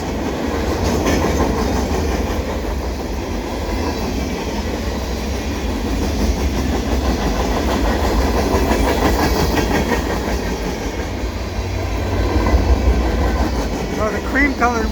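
A CN eastbound freight train with Norfolk Southern locomotives rolls steadily past Pointe Claire station in winter, a loud continuous rumble with clickety-clack of wheels throughout, and someone speaks briefly over it.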